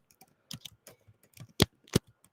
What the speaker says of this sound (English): Sorry about the typing, you guys, but I was a little behind, obviously, today.